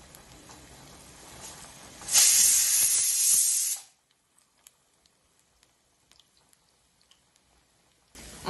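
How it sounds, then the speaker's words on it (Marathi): Okra coated in cornflour and gram flour dropped into hot oil for deep frying on a gas stove, a loud bubbling hiss that swells suddenly, holds for about two seconds, then cuts off, leaving near silence with faint ticks. "ही भेंडी आपण सुटी सुटी करून एक गॅसवरती डीप फ्राय करणार आहोत"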